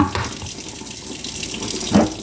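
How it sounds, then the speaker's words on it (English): Hot water runs steadily from a kitchen tap over jar lids, a continuous close splashing hiss with a brief louder gush near the end. "I always make it my business to run hot water over mine"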